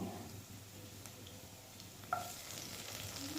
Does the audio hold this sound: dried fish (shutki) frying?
yes